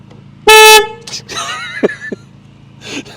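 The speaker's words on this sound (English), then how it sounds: "So they've put a car horn on it, I think." A car horn fitted to a motorbike gives one loud, sustained blast, close and piercing, then cuts off as voices talk and react nearby.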